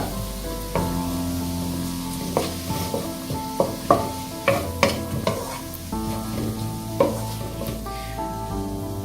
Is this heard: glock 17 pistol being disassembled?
no